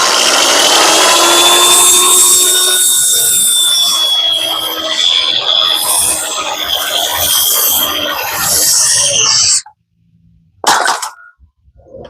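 A power drill drives a screw through a jack stud into a king stud on the framed front wall of an 8x8 off-grid tiny house, whining loudly for about nine seconds, then stopping with a couple of short bursts and clatter.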